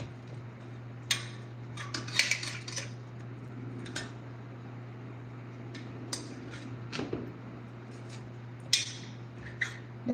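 Chicken being basted in a pan, with scattered clinks and taps of utensils against the cookware over a quiet kitchen background hum, sparse and irregular.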